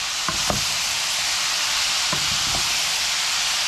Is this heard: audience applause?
no